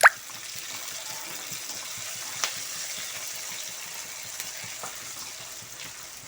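Onions, curry leaves and chillies fry in a pan with a steady, fairly close sizzle, marked by a sharp clack at the start and a couple of faint clicks later.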